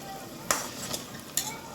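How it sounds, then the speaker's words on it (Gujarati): Ground spinach paste added to green palak pulao in a pot, with a soft frying sizzle throughout and a few sharp clinks of a spoon against the pan while stirring. "હવે આપણે આ પાલકને અંદર નાખી દઈશું એટલે આપણો ગ્રીન પુલાવ તૈયાર થઈ જશે"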